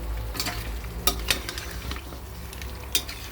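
Skin-on chicken pieces being stir-fried in a pan, a steady sizzle with a few sharp scraping and clinking spatula strokes, close and with no talking.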